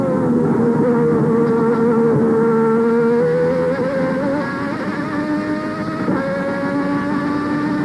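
Onboard with Derek Warwick's 1990 Lotus Lamborghini V12 Formula One car, the engine screaming at around 13,500 RPM as a loud, sustained, high-pitched whine whose pitch dips and rises with shifts, close and continuous.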